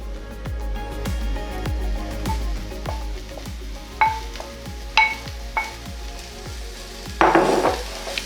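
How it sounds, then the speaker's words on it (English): Jackfruit mix sizzles and fries in a pan with browning onions while being stirred, giving a steady loud sizzle with repeated scraping strokes and a few clinks of the utensil, with no talking. "we can go ahead and add our prepared jackfruit mix into the onions"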